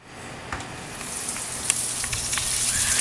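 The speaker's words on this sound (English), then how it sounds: "Do you hear that sizzle?" Bacon-wrapped shrimp-stuffed peppers sizzle and crackle steadily in a hot pan, a close, continuous hiss with scattered pops.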